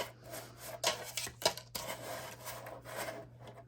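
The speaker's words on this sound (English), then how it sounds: "And then I'm going to get my paper trimmer. And I'm going to cut 1/8 of an inch off of both of the long sides." A paper trimmer slices through a sheet of paper, a faint scraping rasp with a couple of brief sharper strokes over a steady low hum in a quiet room.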